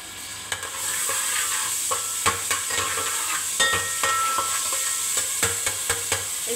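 Ginger garlic paste frying in ghee in a pan with okra, a steady sizzle broken by repeated sharp scraping clicks of stirring, close and fairly loud with no talking.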